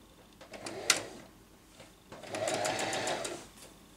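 A sewing machine stitches along a fabric edge in two close, fairly loud bursts of rapid mechanical whirring, with a brief knock between them.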